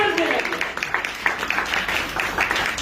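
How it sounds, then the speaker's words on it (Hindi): A church congregation claps together during a sermon at a prayer house, a dense run of overlapping hand claps at steady rhythm, fairly loud and close, with a preacher's voice mixed in. "ताली बजा धन्यवाद"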